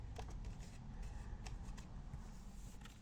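Paper being cut for a handmade scrapbooking pocket card, a steady rasping, shuffling sound with faint repeated snips, low-level and continuous with no talking.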